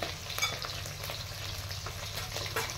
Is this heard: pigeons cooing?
no